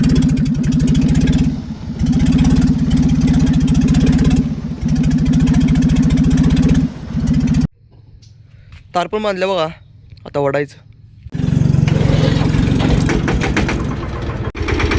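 A farm tractor engine chugs loudly up close with a deep, throbbing idle, drops out briefly while someone speaks, then roars back into steady running.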